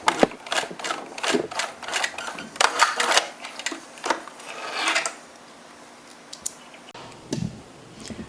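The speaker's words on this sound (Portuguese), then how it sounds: "Como ele é duro, costure devagar, pode ir até com um volante." Domestic sewing machine slowly stitching a stiff cord inside bias tape to make a rouleau, with bursts of close, rapid mechanical clatter separated by short pauses and quieter handling.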